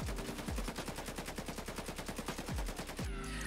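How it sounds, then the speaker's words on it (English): Rapid automatic AKM fire in the Escape From Tarkov video game, one long unbroken burst of evenly spaced loud shots with a few heavier thumps, ending in a brief tail. "So the very first time I'm going to shoot without using my mouse for recoil control."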